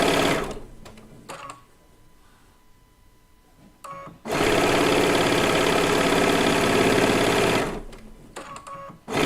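Sewing machine running along a quilt seam: a few brief stops and starts, then a loud, continuous mechanical whir of rapid stitching up close for several seconds before slowing to a halt.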